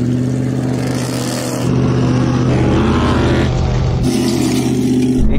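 A Hennessey Mammoth and a Hummer H2 accelerate in a drag race, loud engine roar with a steady low drone that surges and climbs in pitch as the trucks pull away.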